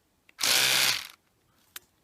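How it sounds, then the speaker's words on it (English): An electric toothbrush buzzes steadily for just under a second while cleaning a Marshall JCM600 guitar amplifier, a loud continuous whir with faint clicks before and after. "an electronic toothbrush"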